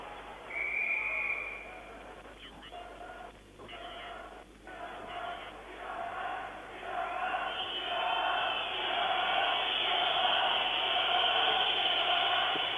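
A sold-out arena crowd of 14,000 at a 1973 world championship ice hockey match between the USSR and Czechoslovakia, a broad distant roar swelling louder toward the end, with shouts and whistles in the mix.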